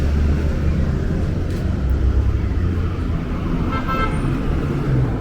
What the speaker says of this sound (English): Got a school bus.